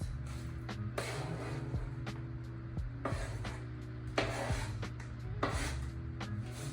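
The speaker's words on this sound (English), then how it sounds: "I still need to cut my sausage" Knife cutting sausage in a bowl, a series of sharp, irregular chopping taps and scrapes over a steady low kitchen hum, close and moderately loud.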